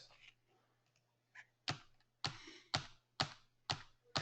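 Several sharp clicks of a computer mouse while clicking through stock charts, a few soft taps followed by five evenly spaced distinct clicks, close and quiet in an otherwise silent room.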